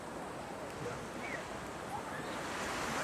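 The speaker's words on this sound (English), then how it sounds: "There's the ocean." Ocean waves wash steadily onto the shore at Myrtle Beach, South Carolina, a continuous broadband surf hiss with light wind buffeting the microphone.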